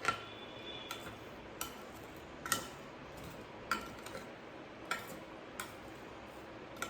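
Homemade pickle being stirred in a metal pot in a home kitchen, heard as sharp scraping clinks of a spoon against the pot at a steady, roughly one-per-second rhythm, fairly faint and close.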